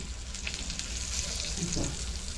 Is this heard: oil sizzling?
yes